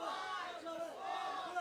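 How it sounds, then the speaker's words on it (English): Arena crowd at a championship fight's final round chanting in unison as the last seconds run out, rising and falling shouts from many voices. "The crowd is counting down."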